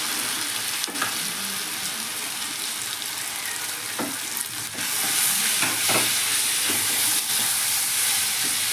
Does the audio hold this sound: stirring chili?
yes